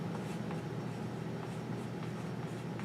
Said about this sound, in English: I'll write them now